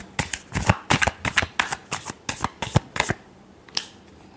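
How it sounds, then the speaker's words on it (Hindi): A deck of tarot cards being shuffled up close, a rapid run of about a dozen crisp riffling bursts that stop, followed by one faint final flick. "Last shuffle."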